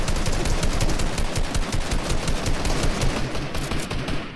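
Rapid, dense video game gunfire fills the whole stretch: loud, continuous bursts of shots in quick succession, most likely shotgun blasts, with no talking over it.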